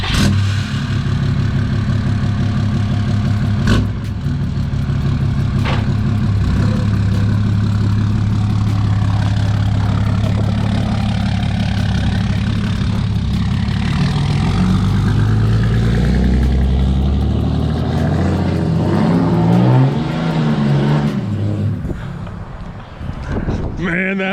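A Dodge 6.7 fourth-gen diesel truck rumbles loudly and steadily nearby, a heavy low engine drone that holds for most of the stretch before easing off near the end, with voices talking over it.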